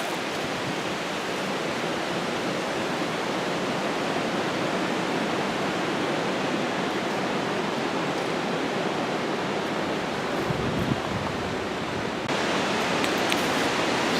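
Strong wind from Hurricane Irma whipping across the Smoky Mountains, a loud, steady roaring rush with no letup, growing slightly harsher toward the end.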